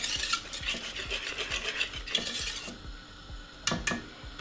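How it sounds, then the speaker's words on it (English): A spoon stirs white cheese sauce in a pan with regular, rhythmic scraping strokes, about two or three per second, close and fairly quiet. Two sharper clinks sound near the end, and nobody speaks. "Keep stirring it just like that"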